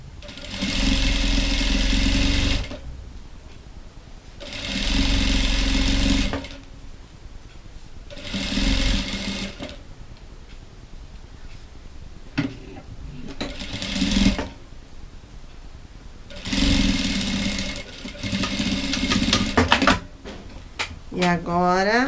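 A sewing machine stitches the final seam of a dish towel in several bursts of two to three seconds each, separated by pauses in which a person talks, and the motor whirs loud and close.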